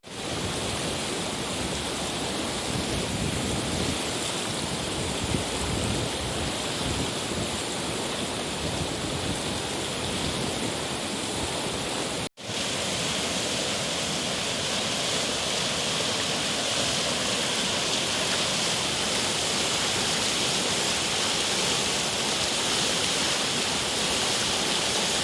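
Steady, broadband rush of a flowing river, loud and close, continuing unbroken for the whole stretch apart from one brief dropout midway, with no voices.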